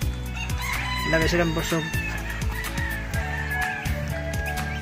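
A small flock of pet ducks calls nearby, with repeated loud honking and squawking cries overlapping one another, while a person speaks briefly.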